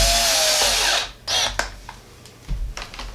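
Screws driven into a Roomba robot vacuum's battery cover with a power driver, a loud close whirring burst followed by shorter, quieter bursts, clicks and handling noise, without talking.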